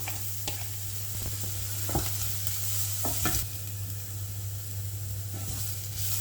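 Onion and grated carrot frying in a pan, a continuous close sizzle broken by repeated scraping stirs and clacks of a utensil, under a steady low hum, with no one speaking.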